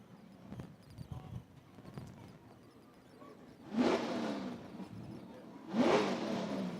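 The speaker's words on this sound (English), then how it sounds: "Loves revving that truck up" A truck engine revs twice in loud surges at a Labor Day firefighter drill in Hagerman, over a rumbling idle and scattered background clatter.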